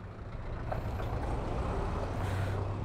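Heavy road traffic around a motorcycle rider: a low, steady drone of trucks and buses idling and rolling nearby, with a faint hiss like an air brake, continuous and fairly muffled throughout.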